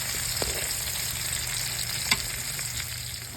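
Beef and chicken sizzle steadily in a pan, with a constant crackling hiss and occasional light scrapes as the meat is stirred, and no voices.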